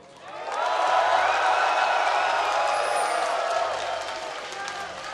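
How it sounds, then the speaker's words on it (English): A large esports arena crowd cheers and chants for Team Solo Mid at the NA Regionals final against Team Dignitas, a roaring swell that builds quickly, holds loud, then eases slightly. "let me hear you cheer for Team Solo Mid"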